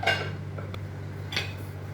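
A lid set onto a pot of Filipino sarciadong isda, a fish stew, gives a short metallic clatter at the start, followed a moment later by a second lighter clink, all over a steady low hum.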